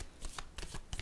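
Tarot cards are shuffled in a quick, close burst of papery riffling and slapping, several rapid flutters within about a second.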